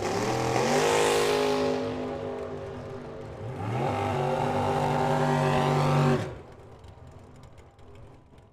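A Mopar drag racing car, number 158 in the right lane, roars down the strip with a loud rising engine note, a brief gear-change dip around the middle, then pulls away and fades to distant rumble.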